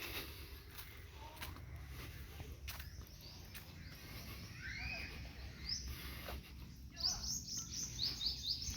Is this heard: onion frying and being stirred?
no